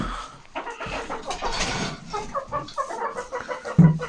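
Chickens cluck and murmur in short, choppy bursts close by at their nesting boxes, with a busy rustling backdrop and no talking.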